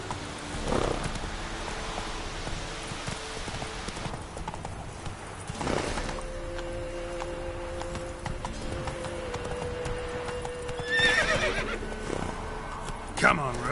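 In The Witcher 3, the horse Roach gallops with steady, rhythmic hoofbeats, and a whinny rises near the end amid other game sounds.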